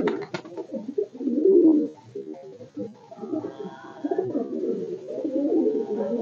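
Close, steady cooing from Madrasi pigeons kept in a loft fills the air in repeated throaty phrases, with a short tapping sound at the start.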